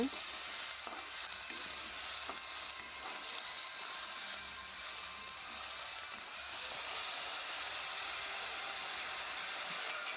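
Fenugreek leaf and potato curry sizzles steadily in a pan while being stirred, a soft continuous frying hiss with faint scraping stirs scattered throughout, fairly quiet and without talk.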